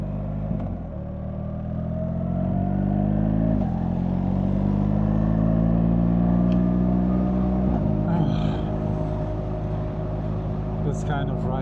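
Continuous engine drone of a BMW R1300GS motorcycle being ridden, steady and fairly loud, with pitch rising through gears and dipping at a few shifts; wind noise sits underneath.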